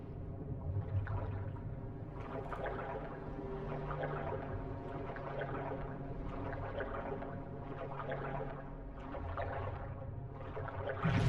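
Swimming underwater in the game Dishonored: muffled, low churning water with rhythmic surges of sloshing strokes, steady and fairly quiet, without speech.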